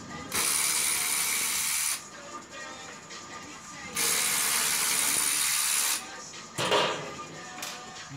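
Ratchet spinning bolts out on a 2014 Ducati Panigale during an oil change, two long bursts of fast clicking, close and loud, separated by quieter handling noise and a brief clank.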